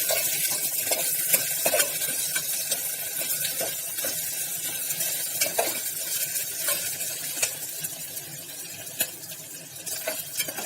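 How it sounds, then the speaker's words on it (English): Sliced ginger, garlic and green chili sauté in hot oil for a mutton curry, with a steady sizzle throughout and frequent spoon scrapes and clinks against the pan, close and continuous, with no talking. "we have put in the sliced ginger and garlic also along with the green chili, and we are sauteing them now."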